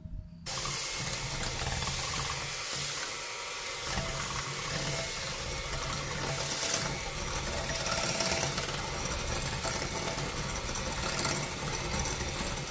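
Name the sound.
electric beater whisking eggs and sugar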